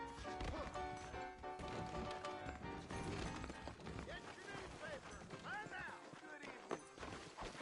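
Saddled horses in Red Dead Redemption clip-clop with steady hoofbeats under frequent talking and other game sounds.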